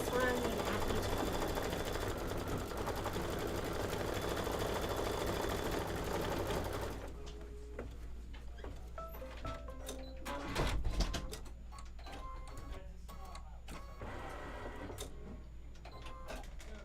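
A sewing machine stitches quilt blocks for a Kimberbell Falling into Autumn project, running steadily and fairly loud for the first seven seconds, then stopping. Quieter clicks and handling noises follow, with a voice speaking briefly.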